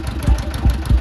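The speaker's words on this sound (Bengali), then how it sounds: "ব্যাস, আমাদের নৌকা যাত্রা শুরু হয়ে গেল।" A boat engine chugs steadily at close range with a low, regular thumping pulse as a river journey gets under way.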